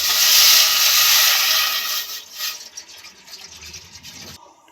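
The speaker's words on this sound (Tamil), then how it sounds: "நம்ம எடுத்து வச்சுருக்கிற 1 லிட்ரு பிஸ்லரி வாட்டரை இதில் ஊற்றிக்கலாம்" Bottled water poured from a one-litre bottle into a pot on a gas stove, a loud steady splashing hiss that fades and trickles off over a few seconds.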